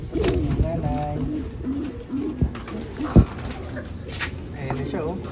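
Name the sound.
pigeons cooing at the nest during hatching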